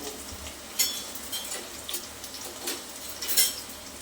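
Chopped onion hits hot oil in a pan while cooking Kolhapuri misal, giving a steady, fairly soft sizzle flecked with scattered crackles and pops, with no voices over it.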